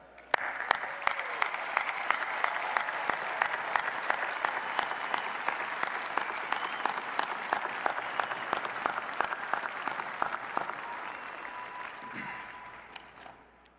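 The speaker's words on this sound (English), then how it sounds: "So please join me in a round of applause for all of our graduates." A large commencement crowd at UNC-Chapel Hill's 2021 spring ceremony applauds its graduates, sustained dense clapping for roughly twelve seconds before tapering off near the end.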